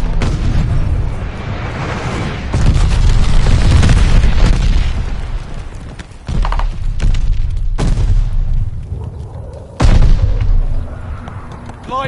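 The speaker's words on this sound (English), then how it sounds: "Enemy glide bomb incoming." A glide bomb strike in the console shooter Call of Duty: Vanguard, played on PS5, with heavy booming blasts and rumbling roars that swell, cut off and hit again in loud bursts across the battlefield mix.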